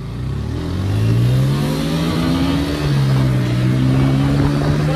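A KTM motorcycle with a battery problem runs its engine near and loud, the revs climbing and falling in smooth sweeps for the whole stretch with no talking.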